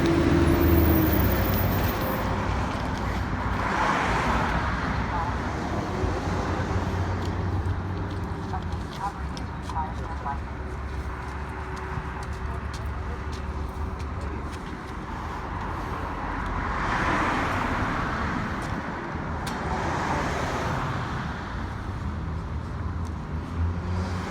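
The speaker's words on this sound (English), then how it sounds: "wow, this is quite the bus stop." Road traffic rolls past a roadside bus stop, with cars swelling and fading in a steady broadband rumble that comes close and recedes several times over about twenty-four seconds, some louder passes standing out.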